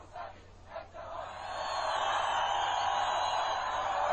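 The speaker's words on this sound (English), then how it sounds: "It's an incredible crowd, and this is for a demonstration the government said was banned" A huge crowd fills central Tehran at an opposition rally, and the roar of many distant voices swells from a few scattered cries into a loud, sustained wash of shouting and chanting.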